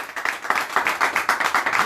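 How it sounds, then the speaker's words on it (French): Applause from a studio audience during a live evening show, a run of quick, fairly even clapping bursts at moderate loudness lasting about two seconds. "Je vais entendre des applaudissements dans ce studio."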